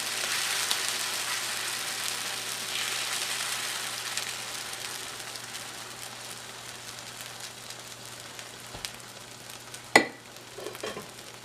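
Keto pork rind tortilla batter spread thin on a griddle set to 350 degrees sizzles in a steady, moderate hiss that slowly fades, with a sharp clatter near the end.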